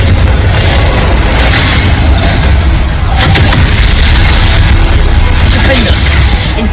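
A Confringo fire-blast spell explodes in Hogwarts Legacy combat, a loud continuous rumbling roar with booming bursts and crackle, amid game action and voices.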